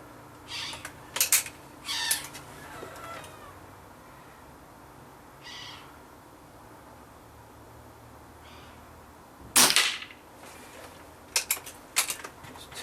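An air rifle fires H&N FTT pellets: a few sharp, snappy cracks spread across a quiet outdoor stretch, one noticeably louder than the rest.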